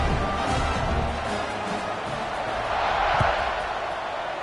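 A stadium crowd in a Madden football video game fills the air with a dense, steady roar after a score. The murmur swells slightly toward the end with no clear break.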